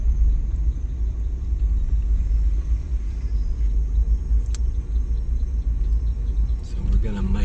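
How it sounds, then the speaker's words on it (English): A car on a quiet night road during a snake hunt in the Everglades, a steady low engine rumble that holds throughout, with a faint brief rattle near the end. "as you can see way up there, there's another car"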